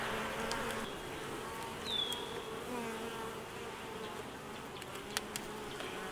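Honeybees buzzing during a beehive inspection, a steady close drone of many wings with one bee briefly whining past near the ear, no talking.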